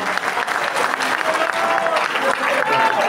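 Applause from an audience at a Congolese political gathering, a steady wash of clapping lasting a few seconds with a low murmur of voices mixed in.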